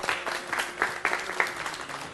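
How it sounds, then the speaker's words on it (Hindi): An audience breaks into applause for Tehseen Fatima, a lively burst of clapping with a few louder individual claps punctuating the steady patter before it starts to thin out. "उनके लिए बहुत सारी तालियां।"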